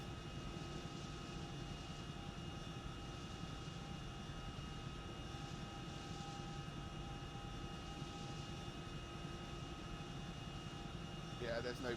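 Aircraft engine drone during a landing in the ARMA 3 military game, a steady broadband roar that holds level throughout, with radio-style voices talking over it.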